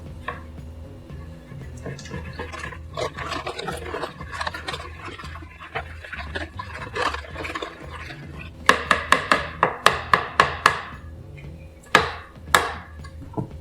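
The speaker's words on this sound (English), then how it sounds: "let's give this a quick stir" A brew being stirred in its vessel, with soft scraping and sloshing at first, then a quick run of sharp, rhythmic knocks as the utensil strikes the side, close and fairly clear with no talking.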